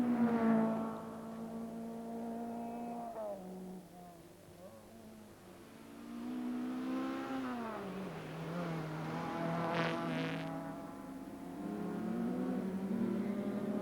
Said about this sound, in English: Now this is Mark Lovell in the Citroën Visa